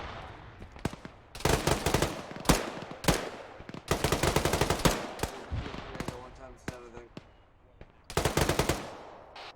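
Bursts of automatic machine gun fire in ArmA 3 infantry combat, loud rapid volleys in several separated strings across the stretch, with radio-style voices talking between and under the shooting.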